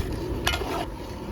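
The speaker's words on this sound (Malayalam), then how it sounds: "സോസും ഇതൊക്കെ വന്നപ്പോഴത്തേന് നമുക്ക് കോൺഫ്ലവറും കൂടെ ഒഴിച്ചു കൊടുക്കാം. ഇച്ചിരി നല്ലപോലെ ഒന്ന് ഇളക്കി കൊടുക്കാം." Sauce with cornflour being stirred in a pan for a chilli chicken recipe: a soft, close scrape of a spoon against the pan over a low bubbling sizzle, with no talking.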